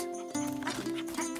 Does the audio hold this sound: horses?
yes